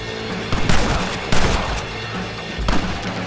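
Rapid gunfire bursts in the video game Red Dead Redemption, several loud volleys of shots cracking over a dense, continuous background of battle noise.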